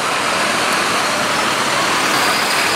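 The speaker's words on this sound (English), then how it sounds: "Now it's very noisy here with the cars on Ryde Road" Car traffic on Ryde Road: a loud, continuous roar of passing vehicles and tyre noise close by, steady throughout with no talking.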